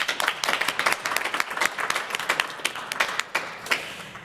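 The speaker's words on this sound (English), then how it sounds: "All right, round of applause." An audience at an Acton-Boxborough School Committee meeting applauds with dense, steady hand clapping that carries on for several seconds with uneven peaks.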